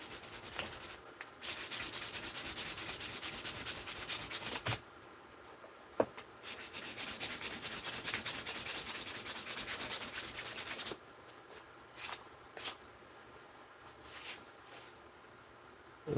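A knife blade is hand-sanded with 400 grit sandpaper, producing quiet, continuous scratchy rubbing strokes in long bursts separated by brief pauses.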